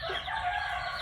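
White Leghorn rooster crowing on a mixed poultry farm alongside geese, ducks and native chickens, a single sustained crow heard close and clear with no talk over it.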